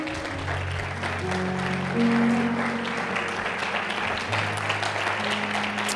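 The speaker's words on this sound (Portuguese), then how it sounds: "Pode se assentar, aplaudindo ao Senhor." A church congregation applauds during a service, a continuous bed of clapping with sustained tones from an instrument or organ underneath, staying level throughout.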